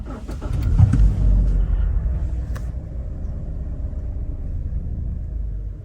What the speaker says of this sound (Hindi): अब करते हैं गाड़ी को स्टार्ट।